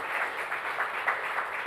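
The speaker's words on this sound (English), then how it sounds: "she deserves a louder applause than that" A seated audience at a talk on the constitution gives steady, moderate applause, a continuous patter of many hands at middle distance without voices.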